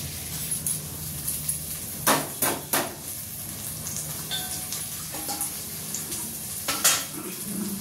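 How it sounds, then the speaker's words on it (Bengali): Washed Gobindobhog rice being tipped into a cooking pot, giving a few sharp pouring and scraping rattles over a low steady background hiss, with no voices. "চালটা এবার আমি দিয়ে দিচ্ছি এর মধ্যে।"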